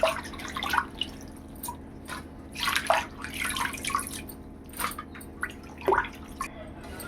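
Gongura leaves being washed in water, with intermittent splashes and drips in irregular bursts, close and fairly quiet.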